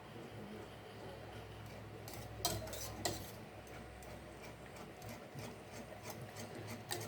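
Spoon clinking and scraping against a container while stirring a creamy coconut and peanut punch, with steady rhythmic taps and a couple of sharper knocks, close by under a constant low background hum.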